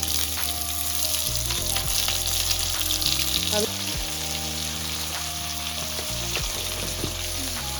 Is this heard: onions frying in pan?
yes